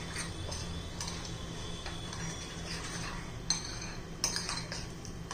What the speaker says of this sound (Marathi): सगळं व्यवस्थित मिक्स करून घ्यायचे आपल्याला.